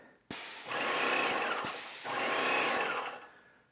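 A paint spray gun sprays in a steady hiss, bursting on for about a second, pausing briefly, then hissing again for over a second before fading out, close and loud.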